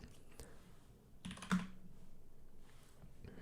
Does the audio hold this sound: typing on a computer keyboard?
yes